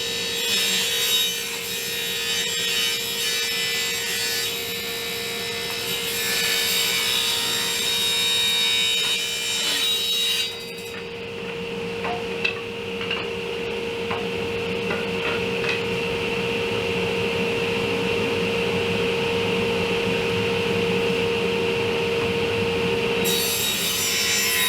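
Saw ripping wooden boards lengthwise to 3.5-inch width for an easy bench seat, a steady loud buzzing cut with a continuous motor tone that shifts midway and runs without pause throughout.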